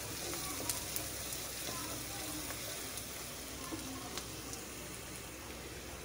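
Turmeric, chili powder, chili flakes and coriander powder fry in a pan, giving a steady, soft sizzle with occasional faint crackles and ticks and no voices.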